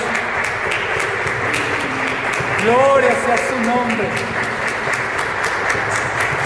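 A church congregation applauds steadily throughout while a preacher speaks over the clapping.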